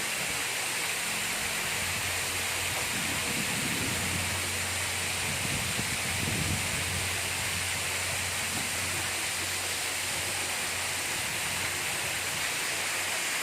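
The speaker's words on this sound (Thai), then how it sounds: "น้ำตกที่สวยงามจ้า" A waterfall pours in a constant, loud broadband roar, with a brief low rumbling swell partway through.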